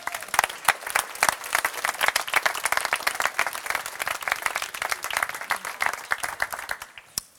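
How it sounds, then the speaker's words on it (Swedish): Sustained applause from an audience at a cooking competition award ceremony, dense steady clapping for several seconds that tapers off near the end. "En applåd."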